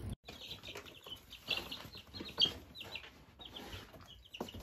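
Young Cornish hen clucking close by, with soft irregular clucks and chirps scattered through the clip over faint rustling and occasional wing flaps.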